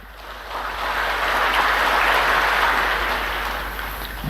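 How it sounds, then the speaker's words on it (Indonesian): Audience applause at a speech to school teachers, a dense wash of clapping that swells and fades over a few seconds, heard alone. "Jangan terlalu cepat tepuk tangan."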